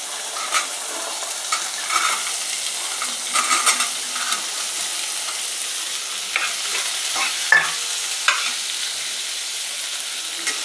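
Onion, tomato and mixed vegetables frying in a pan for Maharashtrian bhogichi bhaji: a constant bright sizzle with irregular scraping stir strokes and occasional metallic clinks of a spoon against the pan, close and moderately loud.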